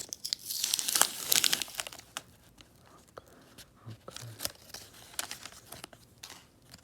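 Crinkly foil wrapper of a FIFA 2022 sticker pack being torn open and crumpled up close, a burst of sharp tearing followed by scattered rustles and crackles, with a few quiet spoken sounds.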